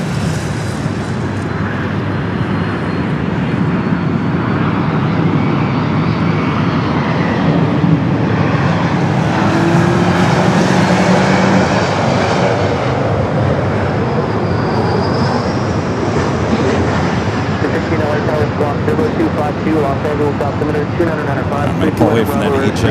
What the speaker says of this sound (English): Flight heading to Lima, Peru in the 76-300 ER.